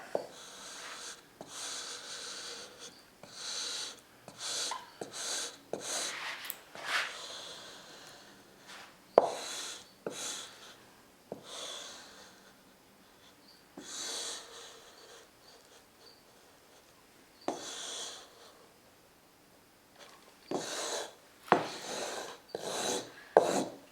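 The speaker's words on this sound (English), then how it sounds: "Use my veneer hammer and stick it down." A veneer hammer scrapes and presses veneer down onto wood in repeated rasping, rubbing strokes, close and fairly loud, with short pauses between passes and no talk.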